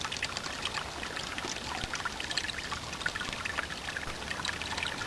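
Water runs through a Sawyer Mini filter in a steady trickling, pouring stream, close and continuous with a bright splashy texture and no talking.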